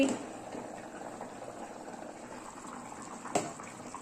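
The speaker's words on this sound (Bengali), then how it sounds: "ঝোল ফুটে গেছে, এবার ঢাকনা খুলে নিচ্ছি" Egg curry gravy bubbling in a pot as the lid comes off, a steady soft boiling hiss with a brief clatter near the end, no talk.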